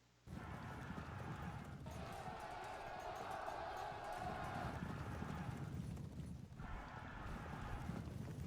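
Light horse cavalry hooves gallop in the Sengoku Jidai strategy video game, giving a dense, continuous rumble of clip-clopping from many horses with crowd-like battle noise, with talking over it at times.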